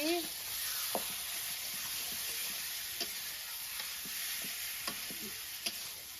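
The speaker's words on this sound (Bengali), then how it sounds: "এখন ছেড়ে দিই ফ্রাইতে তেলে দেব" Sweets frying in hot oil and being stirred, a steady close hiss of sizzling with scattered light spoon taps and scrapes at irregular intervals, no voices.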